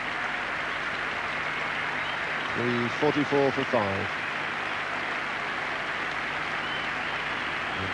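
A cricket crowd at Headingley in Leeds applauds Ian Botham off the field in a 1985 England v Australia Test, making a steady, distant wash of clapping that runs the whole time beneath a brief spoken remark.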